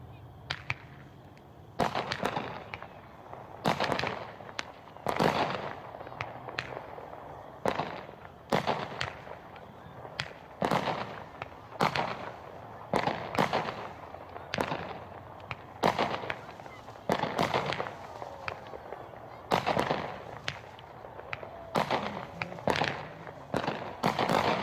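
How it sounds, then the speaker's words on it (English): Hot Shot Ring Neck Tradition, a 16-shot 200-gram consumer fireworks cake, fires a long series of sharp, loud bursts at uneven intervals, with cracks and crackles trailing between them outdoors. "that was Ring Neck Tradition. Great firework."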